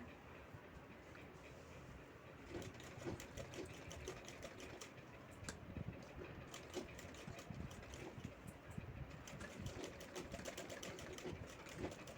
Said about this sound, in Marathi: तसंच दुसरी बाजू आपल्याला शिवून घ्यायची आहे